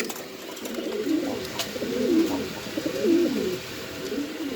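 Pigeons coo repeatedly at a breeding farm, their low, rolling calls rising and falling in a steady rhythm close to the microphone over a faint background hiss.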